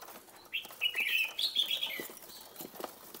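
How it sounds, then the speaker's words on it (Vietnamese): A red-whiskered bulbul sings a short series of bright, warbling chirps, fairly close, with faint background noise and a few soft knocks. "cho anh thấy chào mèo nó sổ giọng nghe đã"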